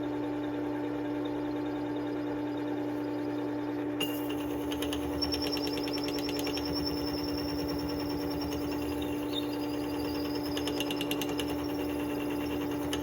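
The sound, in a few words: Work Sharp 3000 sharpener grinding a knife blade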